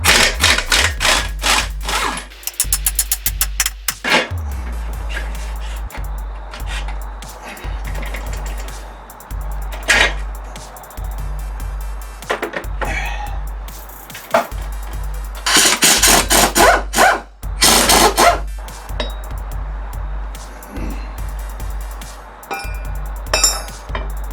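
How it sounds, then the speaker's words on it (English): Work on the rear wheel of a Katana 600 motorcycle: loud, close metallic clinks and rattles of tools and parts come in bursts, with stretches of steadier mechanical noise between them and no speech. "So let's get this back wheel off."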